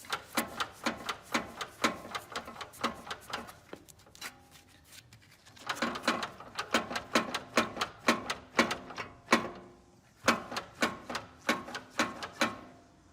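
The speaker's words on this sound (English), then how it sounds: "I can hear noise from this side, so as I rotate it, I think it's coming from the CV axle." Rhythmic clicking and knocking from the CV axle of a 2022 Acura MDX as the wheel is rotated by hand with the tire off, repeating in close, fairly loud bursts with a brief pause midway.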